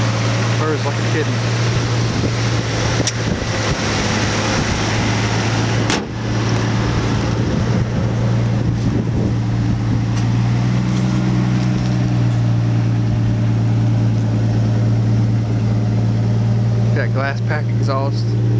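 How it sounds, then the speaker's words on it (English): A 1986 Ford F-150 engine idling through a glass pack exhaust, a steady low droning rumble heard close up throughout, with a voice talking over it. "Glass pack exhaust"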